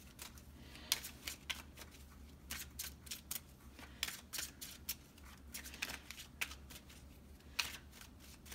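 Tarot cards riffle and snap in quick bursts, shuffled repeatedly at close range with short pauses between, fairly quiet, no talking.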